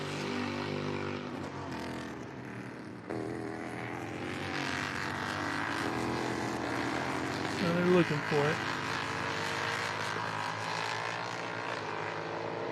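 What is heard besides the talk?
F4 race cars driving at Canadian Tire Motorsport Park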